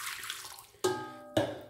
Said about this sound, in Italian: Vado a versare nel boccale 200 ml di acqua